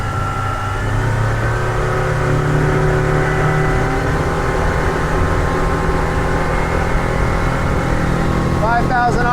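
A 1992 Jetcraft 19 ft aluminum boat with a Mercury 150 outboard runs loud and close at full throttle, its engine a steady high-pitched drone over wind and water rush, while someone talks throughout.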